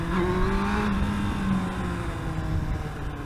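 An engine revs up as the vehicle lifts into a small wheelie, a loud close tone climbing in pitch and then settling into a steady, slightly falling drone.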